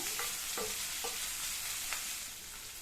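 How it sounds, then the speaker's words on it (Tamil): Onions sautéing in a pan for a brinjal masala curry, a steady broad sizzle with a few soft stirring scrapes of the spatula, close and even throughout. "இப்போ இந்த வெங்காயம் நல்லா வதங்கி வரட்டும்."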